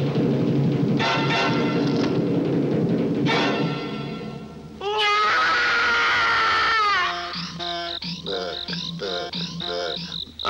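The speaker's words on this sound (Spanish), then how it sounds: "¿Has oído ese grito?" A loud, high-pitched scream in a comedy film scene, rising and wavering in a long wail with crying-like sobs and strained cries, all near and alone with no talk.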